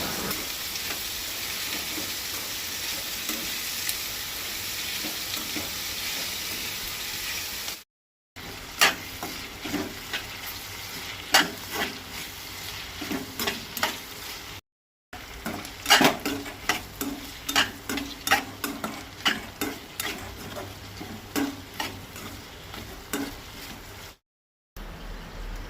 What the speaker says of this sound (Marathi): उबो चिरलेलो कांदो घालपाक जाय। आता तो तळशीत रावपाक जाय